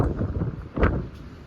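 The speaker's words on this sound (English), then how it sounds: "It's very windy out here in Amsterdam." Wind buffets the microphone in a steady low rumble on a cruise ship balcony in Amsterdam, with a stronger gust near the middle of the clip.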